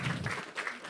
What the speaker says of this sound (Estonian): siis palun tehke veel üks soe aplaus